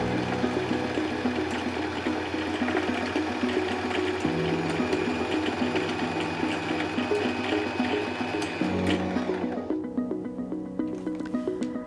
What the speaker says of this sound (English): you can continue winding because the bobbin will stop automatically when it's full